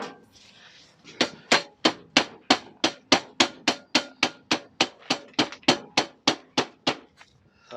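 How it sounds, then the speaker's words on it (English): A rubber mallet strikes parts of a Piaggio NRG scooter during wheel and fork work, giving about nineteen close, evenly paced knocks in a steady run, each sharp and loud, with no talk. "so let me just get my rubber mallet"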